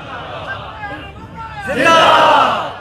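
A large gathered crowd at a religious conference in Pichnand shouts a slogan in unison, rising into a loud, sustained roar of many voices that follows a lone speaking voice.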